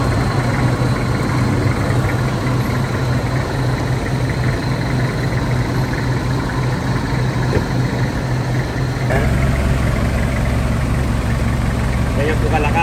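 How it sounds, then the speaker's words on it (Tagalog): A Nissan Urvan van idles steadily with an added auxiliary fan whirring alongside, a constant loud drone with a slight shift in tone partway through. "Ganyan po kalakas yung auxiliary fan. Yung nilagay natin."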